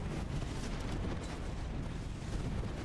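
Gibraltar's defensive bombardment artillery strike in Apex Legends rains down as a dense, continuous barrage of booming blasts and rumbling impacts, loud and sustained throughout with no pauses.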